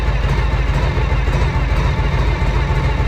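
A 1976 Harley-Davidson FLH motorcycle engine runs with a heavy, steady low rumble that surges slightly while it is running low on fuel, close and continuous with no talk.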